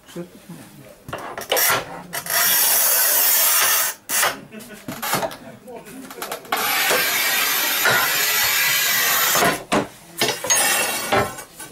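A 90 cm manual tile cutter, part of a comparison of models including Rubi, Sigma, Montolit and Battipav, scores tile with long gritty scraping strokes, with clicks and clunks of the mechanism between passes and some talk.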